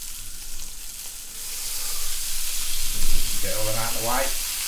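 Bacon and black pudding dropped into a hot pan for a full English breakfast, the sizzle swelling and growing louder as they go in, with a brief voice-like tone near the end.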